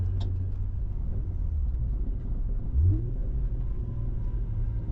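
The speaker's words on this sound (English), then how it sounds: "I want you to downshift now." A manual car's engine drones at low pitch as the driver downshifts, with a short rising rev swelling partway through before settling back into a steady rumble, and no talking.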